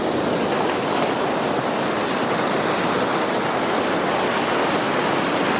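Ocean surf at Calangute Beach in Goa, a steady loud roar of breaking waves and churning water filling the whole stretch without pause, with no voices.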